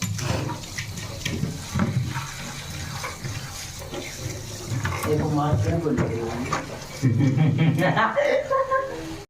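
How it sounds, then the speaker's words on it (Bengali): Tap water runs steadily over fresh spinach being washed in a home kitchen sink, a continuous splashing rush with a louder burst near the end, while someone talks over it. "চলো পালক শাকটা প্রথমে ধুয়ে নিই।"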